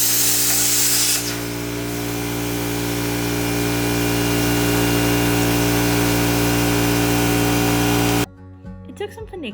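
Power tools, a plasma cutter and a reciprocating saw, cut through aluminum roof sheet on a 1995 ambulance. A loud, steady, buzzing roar runs for about eight seconds, then cuts off abruptly, leaving quieter scattered workshop clatter.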